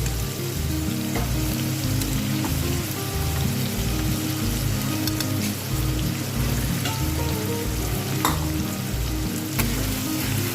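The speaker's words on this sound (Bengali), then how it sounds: "পেঁয়াজগুলোকে আমি আগে একটু ভেজে নিচ্ছি আর সাথে দিয়ে দিচ্ছি ধুয়ে রাখা শুটকি" Chopped onions and washed dried fish fry together in a pan, giving a steady, close sizzle that runs the whole time, with a low, rhythmic tonal backing underneath.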